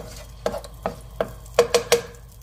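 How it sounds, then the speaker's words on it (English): A cracked egg is stirred in hot vegetable oil in a pan for lo mein, with six short, close scraping strokes over a quiet sizzle. "gently stir."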